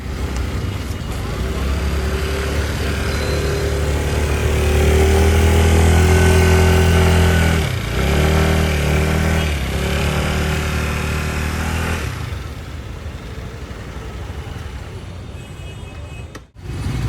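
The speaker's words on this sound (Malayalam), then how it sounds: "അങ്ങനെ ഞാൻ വണ്ടി പാർക്ക് ചെയ്യുന്നുണ്ട്" A two-wheeler, likely a scooter, runs with a steady engine drone, loud and close through most of the ride, then settles into a quieter idle as it pulls in to park near a metro station.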